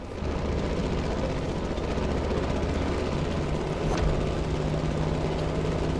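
A plane's engine drones steadily while taking off in the video game The Crew Motorfest, a dense, continuous roar with a low steady hum underneath, loud and close throughout.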